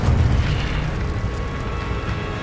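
A fire spell cast in the Hogwarts Legacy video game bursts out as a deep whooshing boom that fades quickly into a low rumbling hiss, heard alone.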